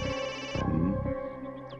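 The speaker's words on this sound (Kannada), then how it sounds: "finance Narayan Nadu phone ಮಾಡ್ತೀಯಾನೆ" A phone rings with a melodic electronic ringtone for an incoming call, steady and fairly quiet, with no one talking over it.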